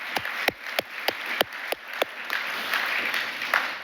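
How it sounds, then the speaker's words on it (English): A few sharp, distinct claps at an awards evening open the stretch, then grow into fuller, continuous applause from the audience, moderately loud. "let's just give them a round of applause and just acknowledge them"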